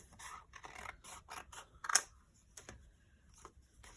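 Scissors snip through paper while a journal's tiered pockets and folio are being made, giving a series of short, close, crisp cuts with brief pauses between them, heard alone.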